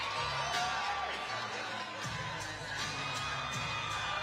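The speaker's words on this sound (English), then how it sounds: "And the crowd going crazy as Rios making her walk. You can hear them behind me." Crowd in a boxing arena cheering and whooping as a boxer walks out, a continuous roar of many voices with sharp shouts and whistles on top.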